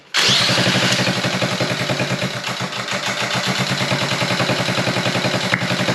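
A Honda Z50A small motorcycle engine fires up abruptly and settles into a loud, steady, rapid putter with a raspy exhaust through the muffler, running continuously up close.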